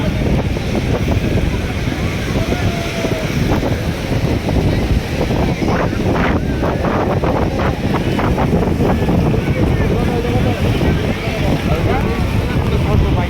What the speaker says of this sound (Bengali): স্পিড বোট হচ্ছে এখানে।